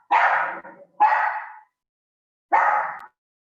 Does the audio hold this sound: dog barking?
yes